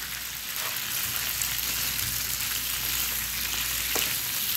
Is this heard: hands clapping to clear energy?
no